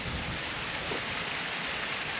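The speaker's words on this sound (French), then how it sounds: "Ça, c'est une toute petite cascade." A very small waterfall makes a steady, even rush of falling water, close and continuous with no break.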